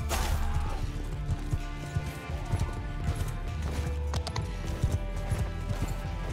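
Horse hooves clip-clop in the medieval battle game Bannerlord, a dense uneven patter of galloping horse archers with scattered crashes and clatter over a continuous rumble.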